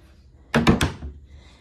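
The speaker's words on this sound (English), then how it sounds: "See, it opens, it has drawers." Drawers of a wooden hutch in a formal living room at an estate sale open and shut in three quick close wooden thuds, followed by a softer knock.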